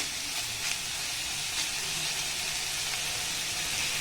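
Atta flour snack frying in a pan with salt, stirred now and then; a steady, even sizzle and hiss runs throughout at a constant level, close and without any speech.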